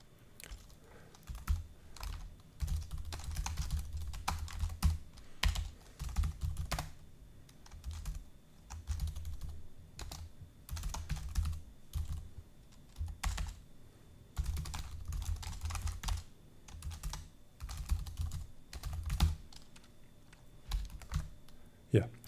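Steady, close typing on a computer keyboard while code is written, continuous rapid clatter of keys with brief pauses and occasional heavier strokes, running for over twenty seconds with a low background hum.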